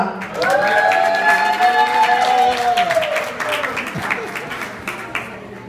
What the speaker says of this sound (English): So round of applause for Jyoti Gupta.